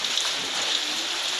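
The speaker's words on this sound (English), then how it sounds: "Guys, it's still raining." Steady rain falls on an outdoor surface, a continuous close hiss with scattered droplet patter and no voices.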